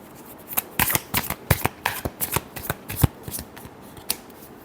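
Tarot cards being shuffled by hand, a rapid series of crisp riffling flicks and slaps in uneven bursts, close and clear with no talk.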